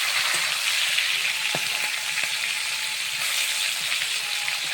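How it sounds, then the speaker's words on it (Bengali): Snakehead fish fry in hot oil with a steady close crackling sizzle, occasional pops and light clinks of a utensil as the pieces are turned; no one speaks. "মাছগুলা সুন্দরভাবে ভাজা হয়ে গেছে। উল্টে দিচ্ছি,"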